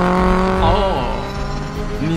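A car revs and accelerates hard with a loud, sustained engine roar that sweeps up in pitch, heard close, with film dialogue and score layered underneath.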